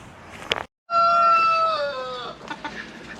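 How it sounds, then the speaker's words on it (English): Chickens in a coop during a drought give a long, loud crow-like call after a brief cluck and short silence, with softer clucks and squawks trailing off behind it. "So let's go and look at the chickens and see how they're getting on."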